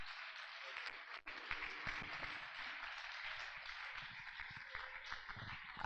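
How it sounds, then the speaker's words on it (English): Audience applause for a celebrant at a special honorary lecture, a steady dense wash of many hands clapping, fairly distant and continuous with a brief dip partway through, no voices. "I want you to stand and give a thunderous claps for the celebrant of today"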